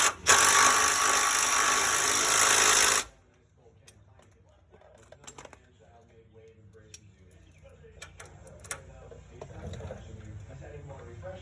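An impact-style power tool runs in one loud continuous burst for about three seconds, tightening the tie rod end nut on a 1997 Tahoe, followed by quiet metallic clicks and tool handling.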